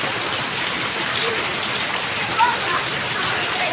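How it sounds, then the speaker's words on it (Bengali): Heavy rain falls steadily across a rural village, a dense even hiss of drops close by with no break, and no voices. "এখনও ভালোই বৃষ্টি আছে। ভাবলাম আপনার একটু দেখাই বৃষ্টিটা।"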